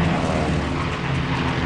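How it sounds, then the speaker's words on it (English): A P-38 Lightning fighter plane in a steep, screaming diving plunge gives a loud, continuous engine roar that holds steady and unbroken. "Olds breaks into a steep, screaming dive to help the outnumbered Mustang"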